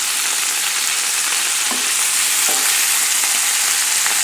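Salmon frying in a hot pan, a steady dense sizzle filling the whole moment, close and loud with a few faint clinks.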